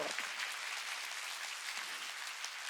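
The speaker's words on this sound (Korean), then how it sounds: "박수 치라" A church congregation at an outdoor mountain revival gathering claps together, a soft, even, distant wash of applause that holds steady with no voices standing out.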